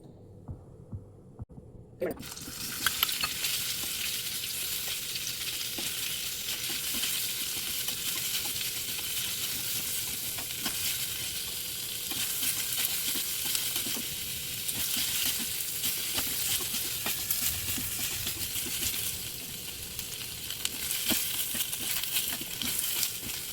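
Ghee sizzling steadily in a pan for soup, a dense, even hiss that starts abruptly after a quiet moment and continues with small crackles and occasional stirring sounds.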